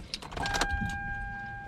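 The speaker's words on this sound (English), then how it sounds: "okay, let me turn on my car first." A car with an Airlift 3-piece air suspension system starts up: a brief cranking burst followed by a steady electronic tone and low idle hum, heard close and fairly quiet with no talking.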